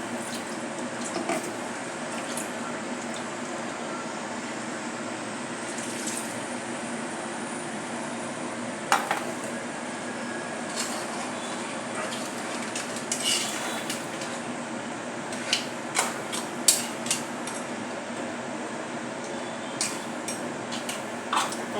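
A spoon scrapes and clinks steadily around a pot as crab curry masala is stirred with added water, with a constant wet, hissing bed and scattered sharper metallic knocks.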